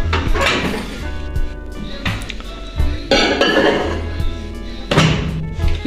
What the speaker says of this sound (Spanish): lo que sigue será meterlo al microondas, unos cuantos minutos para pues el queso se derrita